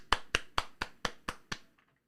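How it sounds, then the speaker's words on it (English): Seven sharp handclaps, close and evenly spaced about a quarter second apart, with a few faint taps trailing off afterwards. "and they stand up and everybody claps"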